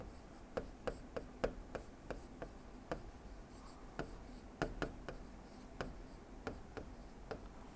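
Chalk taps and strokes on a board as an auxiliary equation is written, a quiet, close sequence of sharp clicks and short scratches in an irregular rhythm.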